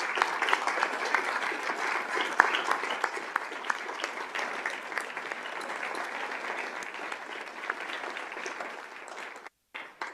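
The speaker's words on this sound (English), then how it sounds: "if you could join me in a round of applause for Mr." Sustained applause from an audience at a school district governing board meeting, honoring a club leader, fills nearly ten seconds with dense, steady clapping that breaks off briefly near the end.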